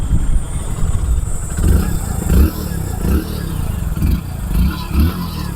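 A Hero Deluxe motorcycle engine, just back from a service, idles close and loud with a rough low throb, swelling in several short revs under faint background noise.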